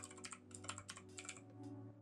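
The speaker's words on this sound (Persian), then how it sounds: "دکمه ویندوز رو بزنین و تایپ کنین پاورشل" Quick bursts of keystrokes on a computer keyboard as PowerShell is typed, a dozen or so crisp close taps in uneven rhythm over a faint electrical hum, fairly quiet and with no talk.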